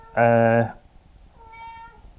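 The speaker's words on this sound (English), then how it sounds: "oh, here comes the cat." A house cat gives one loud, close meow, followed by a softer, fainter second call in an otherwise quiet room.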